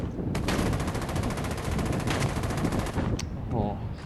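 A video game gun fires in long rapid automatic bursts, loud and continuous for several seconds, then stops, leaving a few scattered shots and a faint beep.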